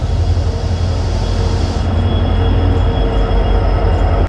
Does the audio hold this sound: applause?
no